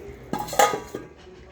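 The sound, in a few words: lid placed on a pot of chicken soup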